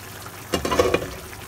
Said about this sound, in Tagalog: Kumukulo na po ang ating karne.